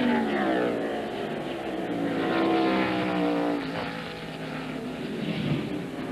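Stock car engine at the 1998 Save Mart/Kragen 350 at Sonoma, a loud sustained roar rising in pitch as the car accelerates off pit road, with a second engine note sweeping underneath.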